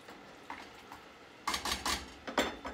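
A utensil scraping and clinking against a pot while spaghetti squash lasagna filling is stirred, a few soft taps early then a cluster of louder scrapes and knocks near the end, close and otherwise quiet.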